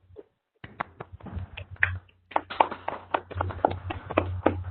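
Scattered clapping from a few people coming through open microphones in an online session, uneven bursts of individual claps with gaps, thin and somewhat compressed.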